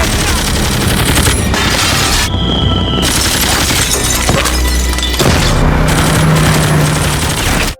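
Fireworks burst in loud, rapid volleys of cracks and booms, going off almost continuously with sharp explosive hits throughout.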